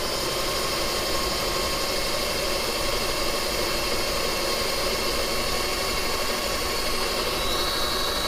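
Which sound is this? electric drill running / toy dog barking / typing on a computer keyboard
electric drill running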